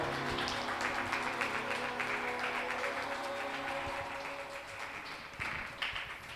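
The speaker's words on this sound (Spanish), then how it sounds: "Dale una ofrenda de aplauso al Señor." Sustained congregational clapping at a church service, offered to the Lord, over steady music and a held organ-like tone, continuing throughout at moderate volume.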